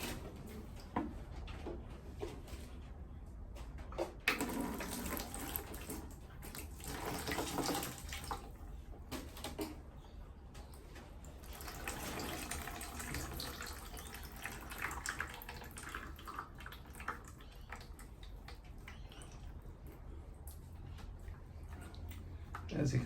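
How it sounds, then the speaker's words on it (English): Water splashes and trickles steadily over the soil of a potted plant for a long stretch, close by, with small drips and shifting pours and no talking. "So I'm just going to tip some water across the top of that."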